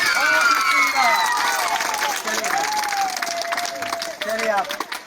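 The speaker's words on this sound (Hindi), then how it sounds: "एक बार जोरदार ताली बजाइए, जोरदार" Audience applause at a school quiz event styled after Kaun Banega Crorepati: dense, steady clapping that fills the clip, with a voice speaking over it.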